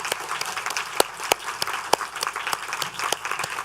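Attendees at a January meeting give a modest round of applause, scattered distinct claps at moderate distance over a soft room murmur, with no speech standing out.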